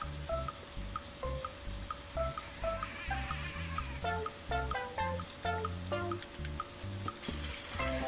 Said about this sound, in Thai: ลงไปแล้วก็ผัดต่ออีกแป๊บหนึ่งค่ะ